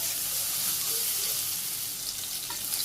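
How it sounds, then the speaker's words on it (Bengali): Soybeans seasoned with turmeric, chili and salt fry in hot oil in a Bangladeshi village kitchen, giving a continuous, close, bright sizzle that stays steady throughout without talking. "এদিকে তেল গরম হয়ে গেছে, আমি ছেড়ে দিই সোয়াবিনগুলো।"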